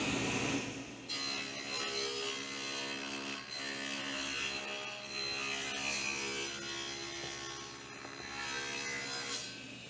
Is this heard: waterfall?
no